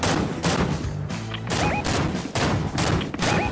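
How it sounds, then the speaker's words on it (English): Rapid bursts of gunfire in Fortnite Zero Build, repeated loud volleys in an uneven rhythm with thuds and impacts between them, with no talking. "Over there shooting us"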